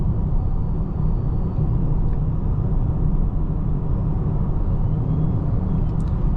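A steady low road rumble from a 2026 Nissan Rogue plug-in hybrid SUV cruising at speed on a main road, smooth and constant, with faint tire hum and no voices.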